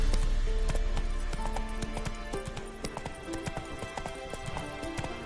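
Roach, a horse in The Witcher 3: Wild Hunt, gallops with a fast, close rhythm of clopping hoofbeats that continues throughout at a loud, even level.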